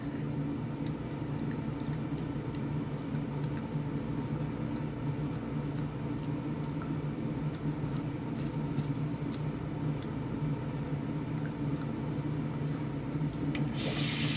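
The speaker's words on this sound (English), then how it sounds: "So I do rinse my chewy." An aligner chewy is rinsed under a running tap, with a steady close hiss of flowing water and faint rubbing the whole way through.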